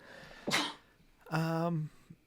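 A single sharp sneeze, followed by a short voiced sound that may be a brief reply, in a quiet room.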